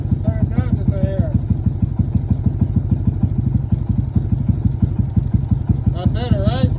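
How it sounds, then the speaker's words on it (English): A motorcycle engine idles with a fast, even, loud low thumping pulse throughout, close by, while people talk over it. "Does the idle sound high to you right now?"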